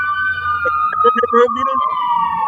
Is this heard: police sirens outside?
yes